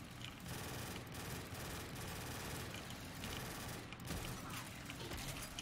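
Dense, continuous automatic gunfire from Black Ops 3 Zombies rattles without pause, a loud, sustained barrage of rapid shots with mechanical clatter throughout.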